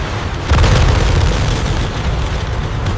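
A sudden heavy boom gives way to sustained, loud rumbling blasts of aircraft cannon fire and explosions hitting landing craft during the Falklands War, continuing steadily.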